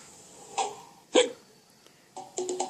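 Hiccups sound out as sharp, brief throat gulps, one isolated hic followed by another, then a rapid cluster near the end, close and fairly clear against a quiet background.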